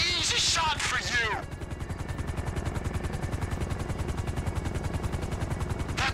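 Rapid automatic gunfire in Grand Theft Auto 5, aimed at a helicopter pilot, opens with a brief voice burst and then a steady, loud stream of shots rattling for several seconds.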